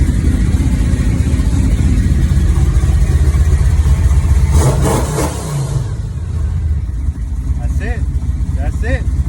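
A 1996 Chevrolet Impala SS engine runs loud and close, rising in a couple of revs before settling to a rough idle, with brief voices over it.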